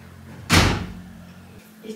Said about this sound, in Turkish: hemen kapat kapıyı